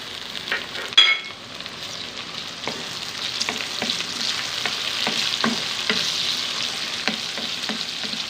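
Tomatoes go into a pan of frying onion and garlic for a Pakistani-style turiyan (ridge gourd) curry, giving a steady close sizzle with scattered stirring clicks and scrapes of a spoon, and no talk.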